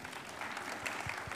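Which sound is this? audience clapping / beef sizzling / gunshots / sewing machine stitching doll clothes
audience clapping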